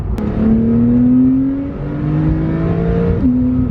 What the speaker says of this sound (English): This car definitely still has induction noise